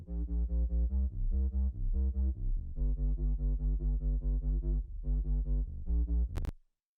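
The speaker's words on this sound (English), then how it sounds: "the bass sounds like this" Synth bass line built in Serum for a pop song, playing steady eighth notes with short gaps between phrases, loud and alone with a brief high blip near the end.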